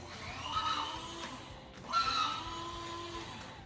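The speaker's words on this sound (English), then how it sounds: "add 1/4 cup of nutritional yeast to the coffee grinder, and I'm just gonna give this a little buzz" A small coffee grinder grinding nutritional yeast buzzes in two short bursts separated by a brief pause, fairly faint and whirring.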